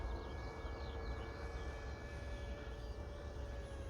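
E-flite Mini Convergence RC VTOL plane hovering, a faint, steady electric whine from its small motors and propellers humming continuously with a few tonal lines and no talk.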